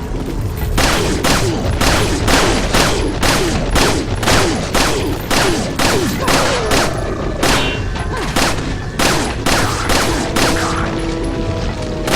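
Rapid gunfire in Resident Evil 4 on Professional mode, a loud dense string of repeated shots and booms across the whole stretch.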